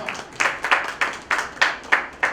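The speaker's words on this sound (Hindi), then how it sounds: "तो जोरदार तालियां।" About eight separate claps at a cultural tribute event, sharp and evenly spaced, close and fairly loud, from one or a few people rather than a full audience.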